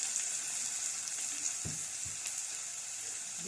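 Onions fry in a mix of ghee and butter, giving a soft, steady hiss of fine crackles with a couple of low utensil knocks partway through; close but fairly quiet, with no talking.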